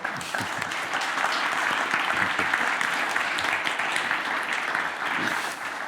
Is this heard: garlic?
no